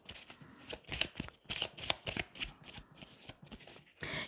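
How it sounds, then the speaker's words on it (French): Tarot cards being shuffled and laid out by hand, a close series of soft riffling flicks and slaps in an irregular rhythm, quiet, with no talking. "Je vais recouvrir certaines cartes."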